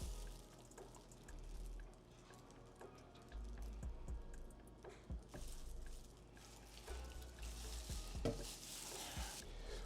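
Part B of a silicone-style wound packing trainer material is stirred by hand in a container: soft, steady scraping and wet stirring with occasional taps, quiet and close, no voices.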